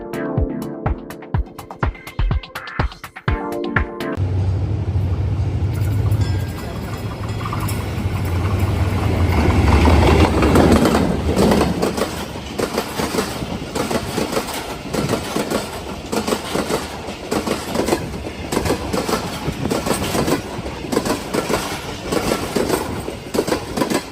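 The 7 Up Tezgam express, led by a ZCU30 diesel locomotive, rushes past close by in Malir with a loud rising roar, then a long run of rhythmic coach clatter with no talk.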